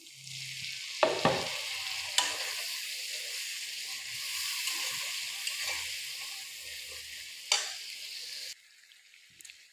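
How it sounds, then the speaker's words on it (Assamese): Beef bhuna with spices sizzling and frying in a pan after water is added, a steady close hiss with a few sharp scraping stirs of a utensil, ending in near silence. "এতিয়া আৰু অলপ পানী দি দিম আৰু ভালদৰে অলপ সময় মজাই ল'ম।"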